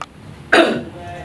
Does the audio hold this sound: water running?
no